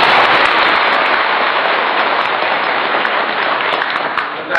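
An audience at a religious lecture breaks into sustained, loud applause, a dense wash of many hands clapping together that holds steady and fades slightly at the end.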